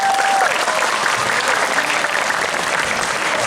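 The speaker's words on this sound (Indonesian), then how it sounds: "Ayo tepuk tangan yang gemuruh." Loud, sustained applause fills a school hall during an outreach event at MAN 2 Kota Jambi, many hands clapping in a dense, even roar from start to finish.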